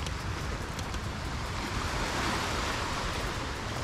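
Sea waves at Pantai Celong, a rocky beach in Batang, steady broadband surf roar with wind noise on the microphone, continuous and fairly loud with no breaks or voices.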